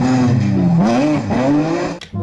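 A toy rally race car plays a loud, close electronic engine sound that revs up and down in rising and falling sweeps before cutting off abruptly.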